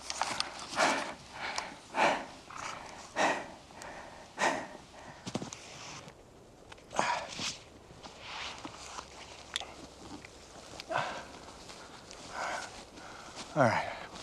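Wild horses in Mongolia move close by, with a steady series of hoof thuds, snorts and sniffs coming at irregular intervals, fairly near but soft.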